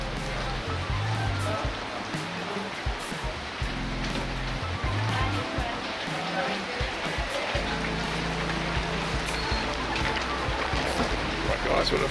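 Rain falls steadily at Pattaya floating market in Thailand, a dense wash of patter that runs the whole time, with people talking over it at moments.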